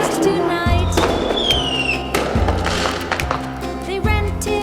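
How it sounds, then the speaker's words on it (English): Fireworks bursting on Bonfire Night, a series of heavy booming thumps roughly every second or two, with crackling and a rising whistle in between, loud and close over a busy outdoor background. "that's why we light fireworks tonight"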